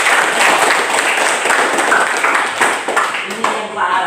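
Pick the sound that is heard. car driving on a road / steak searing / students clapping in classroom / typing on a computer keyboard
students clapping in classroom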